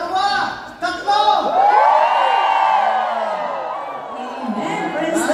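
Church congregation at an El Shaddai anniversary gathering in Singapore shouts loudly together after a count, a sustained crowd roar with whoops and cheers that swells and then gradually fades over several seconds.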